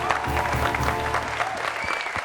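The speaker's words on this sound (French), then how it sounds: "on applaudit pour la Guinée, s'il vous plaît" A studio audience applauds for Guinea on a French-language variety show, steady mid-level clapping filling the whole moment, with some talking faintly under it.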